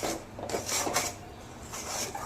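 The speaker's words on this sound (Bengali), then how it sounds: "চালের গুঁড়োটা দিয়ে ভালো করে নাড়াতে হবে" A utensil stirs rice flour into palm juice in a pan, making close scraping and rubbing strokes in a loose repeating rhythm. No one speaks.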